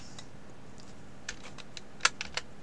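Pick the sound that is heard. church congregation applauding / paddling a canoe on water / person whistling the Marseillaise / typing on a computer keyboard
typing on a computer keyboard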